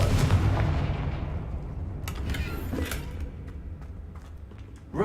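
Confringo fire spell blasting in Hogwarts Legacy, a loud booming burst with crackling bright impacts that decays into a rumbling tail, followed by sharper scattered hits.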